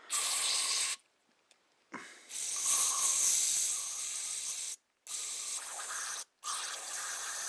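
Aerosol cleaner hisses in several close, forceful bursts into the passages of a Tecumseh diaphragm carburetor, separated by brief silences.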